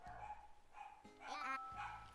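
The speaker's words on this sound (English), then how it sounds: "And the dogs go wild." Dogs barking in the video game Animal Crossing New Horizons: a few quick yips and barks in a short burst, faint and close together, with musical game tones mixed in.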